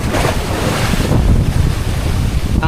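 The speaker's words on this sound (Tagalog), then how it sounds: "Laki ng alon." Big ocean waves off the Surigao coast, heard from the water as a loud, steady surf roar with heavy wind buffeting the microphone throughout.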